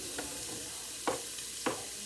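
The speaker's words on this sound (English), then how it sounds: "You want to hear that sizzle." Garlic, celery and onions sizzle in a hot pan over a raised flame, with a steady frying hiss and three brief stirring scrapes spaced across the short stretch, close and moderately loud, no voices.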